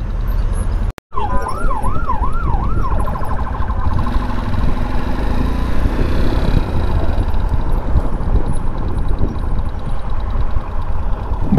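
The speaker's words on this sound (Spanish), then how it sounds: "Ahí ya ha pasado la ambulancia." An ambulance siren wails past on a highway during a motorcycle ride, its rising and falling sweep loud at first, then fading under constant road and engine noise.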